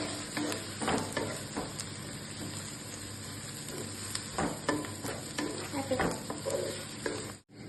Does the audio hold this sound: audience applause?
no